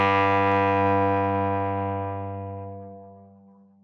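A single bowed cello note played with even bow weight throughout holds a rich, buzzing steady pitch, close and clear, slowly fading over several seconds with no talk.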